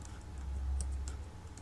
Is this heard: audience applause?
no